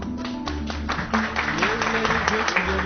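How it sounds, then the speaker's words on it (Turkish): A gathering at a Turkish birthday ceremony breaks into applause, steady overlapping clapping from a roomful of people with voices and background chatter mixed in throughout. "Şimdi alkışlarla."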